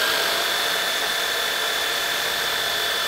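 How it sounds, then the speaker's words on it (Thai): A Moller electric drill bores into bathroom tile with a loud, steady high-pitched whine and grinding buzz that runs unbroken throughout, with no talking. "ลองเจาะดูเหมือนกันด้วยโมเลอร์เนี่ยแหละพอเรามีอุปกรณ์ดีๆจะเจาะกระเบื้องได้หรือไม่นะครับ"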